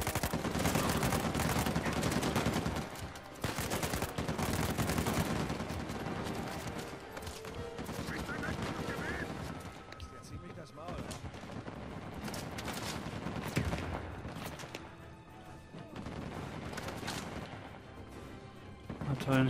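Heavy sustained Gatling gun fire rattles through a battle in the video game Uncharted 4, dense rapid shots layered with explosions and crashes, loud at first then easing and flaring again, with a voice talking over parts of it.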